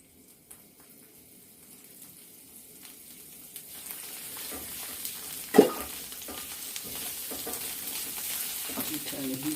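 Plant-based vegan sausages sizzling in a pan after olive oil is added, a quiet crackle that builds into a steady fry with a sharp clatter midway, heard close with faint background sounds.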